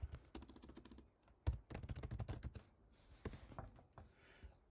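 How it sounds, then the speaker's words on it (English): Rapid clicking of keys on a computer keyboard, close and fairly quiet, in irregular bursts with short pauses between them and no talk. "then we're going to type in what the property name is"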